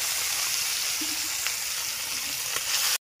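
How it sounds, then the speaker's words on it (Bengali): Shol fish coated in salt, turmeric and chili powder frying in hot oil, giving a steady, loud, close sizzle that lasts throughout and then cuts off abruptly. "মাছগুলো খুব ভালোভাবে ভেজে নেবো লাল লাল করে"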